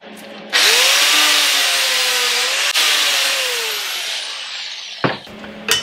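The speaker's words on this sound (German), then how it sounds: "Den müssen wir jetzt ein bisschen wegschleifen." A power grinder spins up loudly and grinds away a steel angle bracket with a high whining hiss that slowly winds down over several seconds, followed by a couple of metallic clatters.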